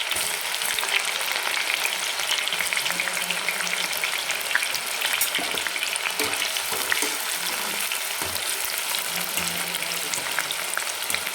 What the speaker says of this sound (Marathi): तर आपण आता कांदा तळून घेऊ एकदम छान सोनेरी तळून घ्यायचा आहे आपल्याला